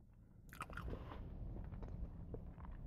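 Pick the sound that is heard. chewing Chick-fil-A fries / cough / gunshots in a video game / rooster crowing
chewing Chick-fil-A fries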